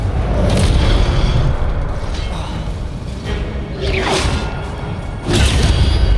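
Incendio fire spells cast in Hogwarts Legacy, loud booming blasts with whooshing bursts that come in repeated waves over a constant rumbling game soundscape.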